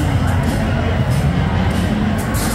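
Austin FC's supporter section fills an MLS stadium with a thick, continuous roar of crowd noise, chanting and cheering blended into a loud, steady wall of sound.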